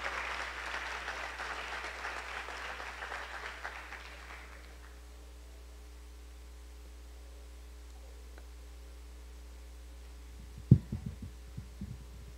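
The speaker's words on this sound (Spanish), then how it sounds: "con el aplauso de todos nosotros" Audience applause at an evening tribute ceremony, a burst of clapping that fades out over a few seconds, followed by a quiet hum and a brief thump.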